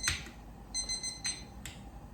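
A kitchen timer alarm on a stove-top beer mashing setup beeps in short repeated bursts of high electronic tones, fairly faint in a quiet room.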